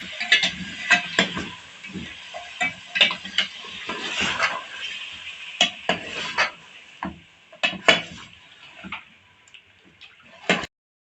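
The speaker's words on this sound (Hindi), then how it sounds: "ये गोश्त को थोड़ा भून रहा है।" Meat frying and being stirred in a pot for biryani, with ginger-garlic paste added, giving repeated scraping and clinking of a spoon against the metal pot in an irregular rhythm, close and fairly clear, with no talk.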